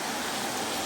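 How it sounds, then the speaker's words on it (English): Light rain falling outdoors, a steady soft wash of fine hiss with no distinct drops, even and continuous throughout. "it's raining very lightly."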